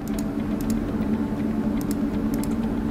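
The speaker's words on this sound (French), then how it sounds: "vous appuyez sur la touche Alt de votre clavier" Typing on a computer keyboard, including pressing the Alt key during image editing, comes through as short clusters of light, crisp clicks over a steady background hum.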